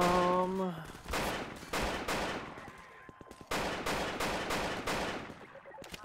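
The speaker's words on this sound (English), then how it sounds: "Gun makes a weird noise." Gunfire in a Half-Life 2 custom campaign played in Garry's Mod arrives in rapid, loud bursts of close shots with short gaps between volleys, after a brief tonal game sound.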